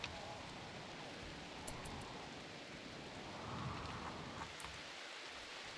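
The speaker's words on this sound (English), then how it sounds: "this rain is killing me" Rain falls steadily in the RimWorld video game, a continuous hiss of downpour with faint low rumbles like distant thunder and no talk over it.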